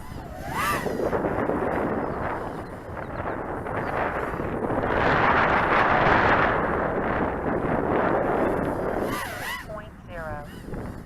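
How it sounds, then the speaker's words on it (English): Wind buffets an Eachine RedDevil 105mm 2-3S FPV racing drone in flight through light 5 to 10 mph wind: a steady, loud broadband rush that swells in the middle, with brief whistling tones near the start and end. "No problem with this little 5 to 10 miles per hour winds here."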